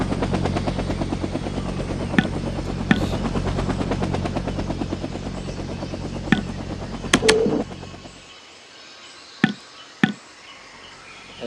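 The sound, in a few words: aircraft flying in Vietnam 65 video game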